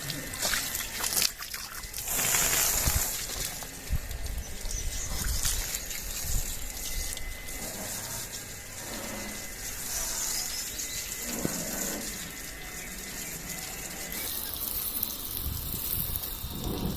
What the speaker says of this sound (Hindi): तो इसको धोना है हमने, तो अभी इसको धोते हैं। अभी मैंने इसको पानी डाला है